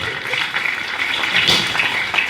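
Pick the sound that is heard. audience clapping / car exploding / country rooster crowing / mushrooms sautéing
audience clapping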